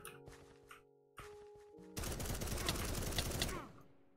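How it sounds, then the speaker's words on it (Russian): Rapid gunfire in the video game Krunker, a dense burst of shots lasting about a second and a half after a few quieter game tones and clicks. "Как они так стреляют?"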